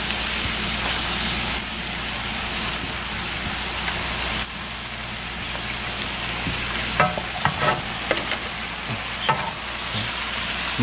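Lo mein noodles with shrimp are stir-fried in a hot pan, producing a steady loud sizzle with continuous stirring and a few sharper utensil clacks near the end.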